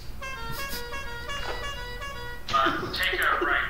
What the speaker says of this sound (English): found an air horn